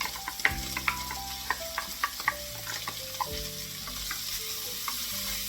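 Chopped onions sizzling in a pan with browned pancetta for winter minestrone soup, a bright steady fry with sharp clacks and scrapes of stirring near the start, settling into continuous crackle.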